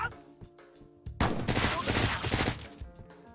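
A Revenant gunshot in the video game Deadbolt sets off a sudden loud, dense burst of gunfire that follows quieter clicking and rumble, then fades after about a second and a half.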